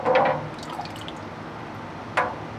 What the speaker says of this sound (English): I can just dunk that right in the water and quench it